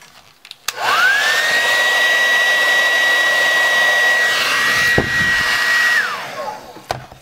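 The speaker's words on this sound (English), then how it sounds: "So I'm going to turn on my blow dryer." A blow dryer switches on to warm nail wrap adhesive and runs as a loud, steady high-pitched whine for about five seconds before spinning down, with no talking.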